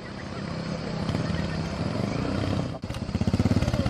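A motorcycle engine drones nearby and passes, its loud buzzing rumble rising and ending in a throbbing, pulsing putter.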